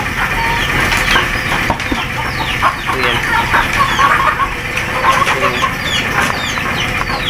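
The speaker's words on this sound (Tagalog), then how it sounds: "So, ito yung mga manok natin guys." Native chickens cluck and call steadily throughout, a dense flock heard up close over constant farmyard noise, with a brief spoken word.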